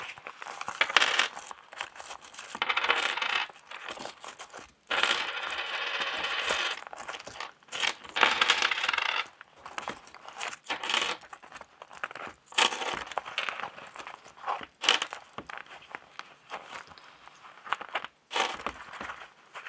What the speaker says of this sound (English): And then we're gonna get my coins.